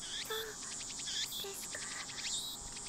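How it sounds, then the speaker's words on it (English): Cicadas chirp in a quiet outdoor scene from the Steins;Gate visual novel, with repeated high buzzing trills and short rising calls pulsing steadily at moderate volume and no voices. "The only sound is the chirping of cicadas."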